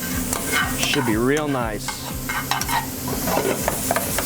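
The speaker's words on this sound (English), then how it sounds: "I'm trying to let it cook long enough so that all the fat renders out of it" Bacon fries in a pan as its fat renders, with a constant sizzle under sharp, rhythmic clinks and scrapes of a utensil stirring, while someone talks briefly over it.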